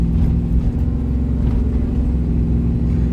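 Low rumbling engine of a truck, the Battlewagon, driving on a newly installed Max Effort transmission, a steady mid-pitched drone with slight surges as it rolls along, close and fairly loud.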